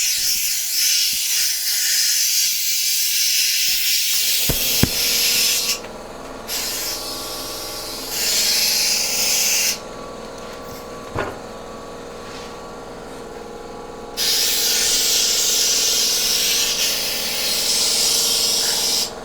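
Air hissing loudly from a new tire on a 2014 EZGO Express S4 gas golf cart as the bead is seated, steady close bursts of rushing air that start, stop and restart several times, no talking.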